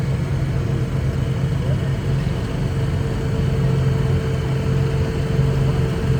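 An antique tractor engine rumbles steadily at a tractor pull staging area, a loud low continuous drone with a faint mid-range hum and no clear revving.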